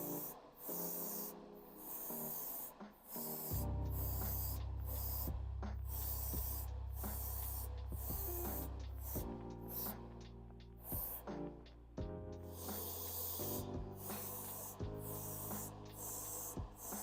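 An airbrush sprays paint onto a 3D printed Galactus figure in short hissing bursts, some brief and some sustained, with faint background noise between them.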